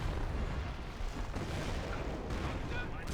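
An artillery barrage in Company of Heroes 1 rolls on as a dense, steady rumble of overlapping booms and blasts, loud and unbroken for the whole stretch.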